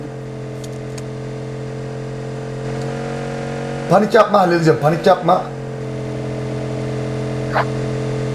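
A car engine in an online shooter game hums as a steady, even drone for the whole stretch, with a player talking briefly over it in the middle.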